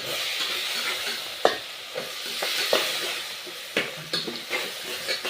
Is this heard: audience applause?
no